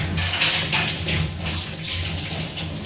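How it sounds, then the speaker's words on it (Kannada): Water poured into a chutney being made to go with Hyderabadi mutton dum biryani, a steady splashing, running pour with faint clinks of a pot or utensils, close and continuous, no one talking. "ಸ್ವಲ್ಪ ನೀರು ಹಾಕಕತ್ತಾರ ನೋಡ್ರಿ."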